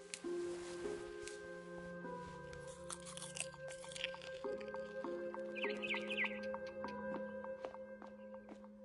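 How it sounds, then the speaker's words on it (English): A barn swallow returning to its nest in the video game What Remains of Edith Finch chirps faintly in a few short bursts, heard over sustained music tones and soft crunching sounds. "Then I heard chirping outside my window. It was a barn swallow going back to her nest."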